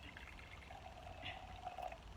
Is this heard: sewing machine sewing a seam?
no